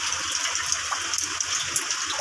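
Rainwater dripping and splashing through a kitchen exhaust fan into a pot during heavy rain and strong wind, a steady close watery patter with no talk.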